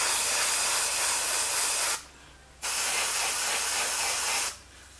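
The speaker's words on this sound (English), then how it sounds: "you just spray your gloss clear" Long hissing passes of gloss clear coat from an aerosol spray can, two loud sustained bursts with a short gap between them, close and steady, with no voices.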